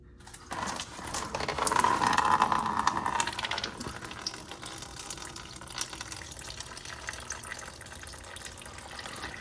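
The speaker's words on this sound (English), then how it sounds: "Don't know how much coolant will actually come out" Green coolant drains from a Ferrari 360 into a pan, a steady liquid trickle and splash that is strongest early and then settles into a thinner ongoing flow.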